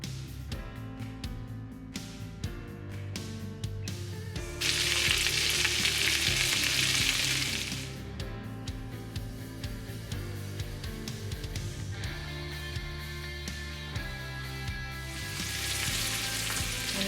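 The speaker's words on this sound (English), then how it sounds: "some oil to the pan. And I'm gonna add the butter. Also add the garlic and mix." Garlic sizzles in butter and oil in a pan, a steady frying hiss broken by bursts of stirring and scraping, close and loud throughout with no talk.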